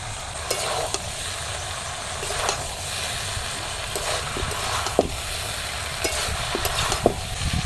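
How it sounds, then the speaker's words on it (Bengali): Fried eggplant and potato pieces being stirred in a pan, with mustard paste added: a steady sizzle of frying under repeated close scrapes and soft knocks of a spatula against the pan, without talk. "বেগুন আলুগুলো দিয়ে আর একটু নাড়াচাড়া করে নামিয়ে নেব"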